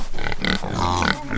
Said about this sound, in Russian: Хорошая свинка